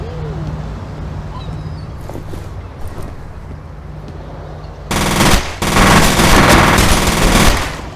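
Automatic weapon fire from the F.E.A.R. video game erupts loudly in sustained bursts during the last three seconds, following a quieter stretch of low game ambience with faint distant pops.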